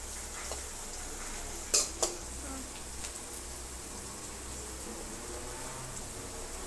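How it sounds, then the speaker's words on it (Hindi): Onions fry quietly in a pan, a soft steady sizzle with a couple of sharp utensil clinks partway through. "तो अब प्याज भून रही हूँ इसमें"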